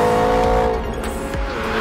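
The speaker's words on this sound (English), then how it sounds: "leave some content from the engine, so there's a little bit of the turbo noise, and make it a McLaren GT" A McLaren GT's engine with a bit of turbo noise, a steady close motor tone with whining harmonics holding alone for a couple of seconds, no talk.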